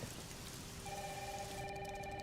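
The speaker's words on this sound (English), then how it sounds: "It's really coming down hard." Heavy rain pours down in a steady, hissing wash at a low level, and a telephone begins ringing over it partway through.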